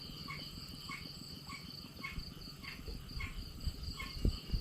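Night chorus in rain-soaked rice fields during the rainy planting season: dense, steady insect trilling with frogs croaking in a repeating pulsed rhythm, a continuous layered wash at moderate distance with no voices.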